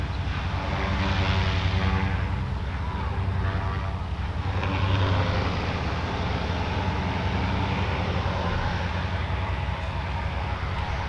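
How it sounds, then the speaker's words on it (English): Goodyear blimp Wingfoot One sitting on the ground at Wingfoot Lake with its engines running, a steady, loud droning hum with a low throbbing rumble that holds evenly throughout, swelling slightly mid-way. "Keeping the engines running just"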